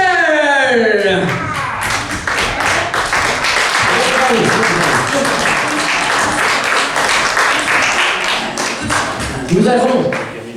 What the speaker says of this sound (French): Et tout de suite, applaudissez-le.